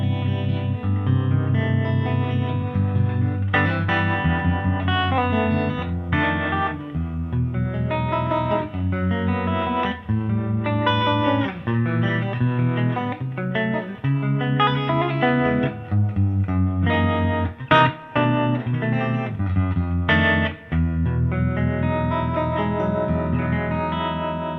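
An electric guitar played through a tweed-style amp with reverb and harmonic vibrato, sustained chords and single notes ringing with a warm, slightly distorted, wavering tone and lush echo, loud and continuous with no talk.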